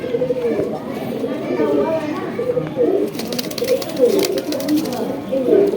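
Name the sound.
Deobandi and Bajrai pigeons cooing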